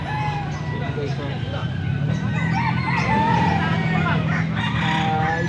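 A seven-month-old stag rooster crows amid a noisy gathering of fowl in Angeles, Pampanga, its call rising over steady crowd chatter and other birds, with people talking throughout.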